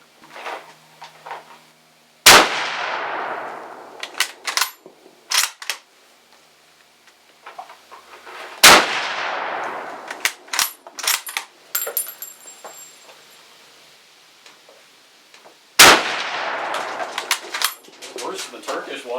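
Three loud, sharp rifle shots with 8 mm Privi ammunition ring out several seconds apart, each with a ringing decay, while someone talks quietly between them.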